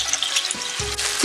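Kung Pao chicken pieces stir-frying in a hot pan, a continuous dense sizzle with scraping and clattering as a spatula turns them, two brief bumps of the tool against the pan, no voices.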